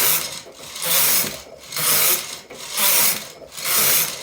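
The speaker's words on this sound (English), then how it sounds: "I'm just going to knit a few rows to get us out of this." Knitting machine carriage swept back and forth across a few rows, each pass a loud rasping, clicking mechanical whoosh, repeating in a steady rhythm about once per second.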